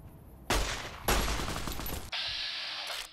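Loud bursts of rapid gunfire in Fallout New Vegas, two sustained volleys of close shots followed by a different hissing weapon sound, with no talking.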